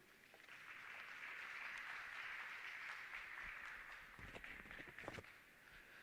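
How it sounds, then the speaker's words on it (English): An audience at a campus community safety forum launch at a college claps, a soft, steady patter of many hands heard from a distance that thins out toward the end. "Another round of applause, ladies and gentlemen."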